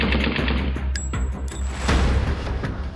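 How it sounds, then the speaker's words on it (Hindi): Rapid bursts of gunfire crackle at night in Amnabad, Bihta near Patna, during a clash between rival illegal sand-mining gangs, with dense overlapping shots and sharp cracks, loud and close throughout. "बुधवार की रात ये पूरा इलाका गोलियों की तड़तड़ाहट से गूंज उठा।"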